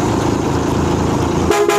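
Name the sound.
tourist bus air horn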